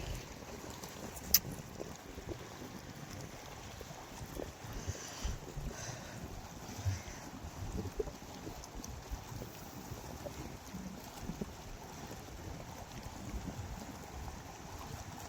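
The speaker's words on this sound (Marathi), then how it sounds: "ती बघा बोट चालले बघा पाण्यातून" A small fishing boat moves through the deep sea off Murud, heard as a faint, steady low rumble of water and wind with a few soft knocks, distant and quiet.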